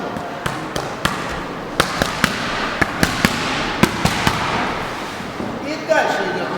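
Rapid bursts of boxing punches on pads or a bag during a training drill at a youth sports school session, sharp irregular impacts repeating in quick clusters, loud and close with crowd-like background.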